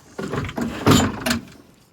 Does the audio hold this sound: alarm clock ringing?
no